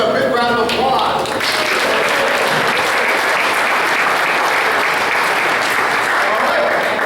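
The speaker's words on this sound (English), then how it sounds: "Let's give him a big round of applause." Audience breaks into loud, sustained applause that runs on without a break, with a voice speaking briefly over the opening moment.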